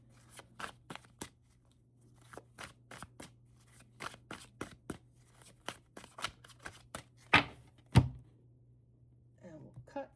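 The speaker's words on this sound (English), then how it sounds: "Cut the deck for the Sagittariuses" A tarot and oracle card deck is shuffled and cut by hand, producing a series of quick, crisp riffling and tapping bursts in an irregular rhythm, close and fairly quiet, with a faint steady hum beneath.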